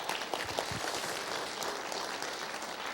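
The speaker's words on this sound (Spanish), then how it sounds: "Buenísima pregunta, un aplauso" Audience applause at a Christian conference talk on ministry, a steady dense wash of clapping that holds evenly for about three seconds.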